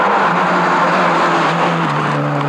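A Citroën rally car at a 1996 national rally, running on makeshift fuel, drones steadily and loud throughout, its engine note holding a constant pitch that shifts down slightly near the end, with no talk.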